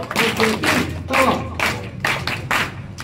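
Children at a spiritual camp clap together in a steady counted rhythm, sharp bursts of hand claps landing in regular groups, close and loud with no talking over them.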